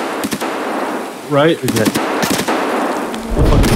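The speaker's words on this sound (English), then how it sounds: "It was a scab shooting at me." Gunfire from an AI scav in the Escape From Tarkov shooter game, with several sharp shots and short bursts at mid distance. Brief voices talk over the firing.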